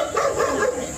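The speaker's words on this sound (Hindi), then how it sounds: "बीच गली में खींचातान देख कुत्ते परेशान हैं।" Dogs in a village street give a brief burst of agitated barking and yelping, close by and fairly loud, lasting about a second.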